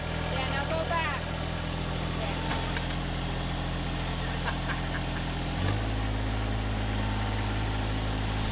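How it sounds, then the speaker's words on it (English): A tractor engine runs steadily during tree removal work, a continuous low droning hum close by that briefly shifts pitch partway through as the load or throttle changes, with no talk over it. "You can tell Mark's having a great time with his tractor"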